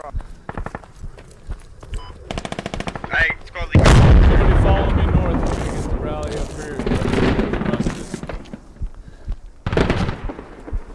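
Gunfire in the military shooter Squad, insurgent defense match: loud cracking shots and heavy booming impacts close by, with footsteps and shouted voices over the top.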